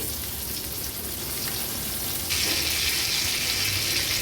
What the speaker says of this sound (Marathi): एक दोन ते तीन मिनिटासाठी एक बाजू आपल्याला व्यवस्थित फ्राय करून घ्यायची आहे